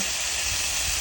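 Steady, loud sizzling hiss of food frying in an iron pan, continuous and close, with no voices.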